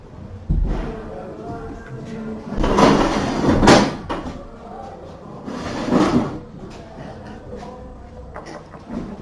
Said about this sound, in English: Let me close the door one second.